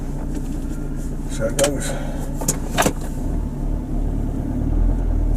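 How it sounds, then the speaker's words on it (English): BMW X3 rolling slowly during a road test after an oil change, a steady low cabin rumble with a few faint clicks and a short spoken remark over it. "We're doing the road test after the oil changes."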